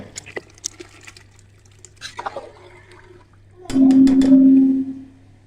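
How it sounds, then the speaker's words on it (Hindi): Rice is added to boiling water: water swirls and splashes loudly in a pot for about two seconds, with a low steady hum underneath and a few quieter clatters beforehand. "पानी को बॉयल आना शुरू हो गया। अब हम इसमें चावल शामिल करेंगे।"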